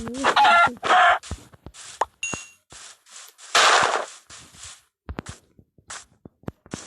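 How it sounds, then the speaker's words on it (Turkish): Game-style chicken clucking and squawking in short bursts, with scattered clicks and thuds between them, no talking. "Tavuklar mı?"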